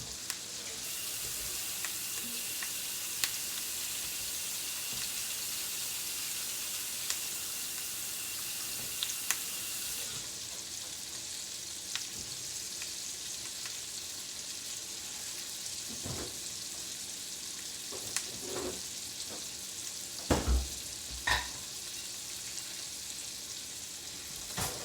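Goat chops with thyme and rosemary frying in a pan, a soft, steady sizzle at low level with a few faint clatters and bumps.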